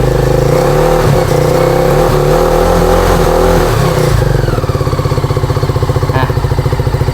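A GPX MAD300 motorcycle engine revs loudly several times close by, then drops back to a steady, pulsing idle.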